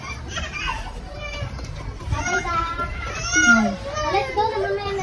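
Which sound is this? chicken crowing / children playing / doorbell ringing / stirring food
children playing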